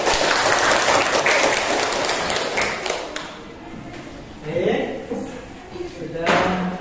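A classroom of students bursts into loud clapping for about three seconds, then it fades into scattered taps and some talking while the room settles.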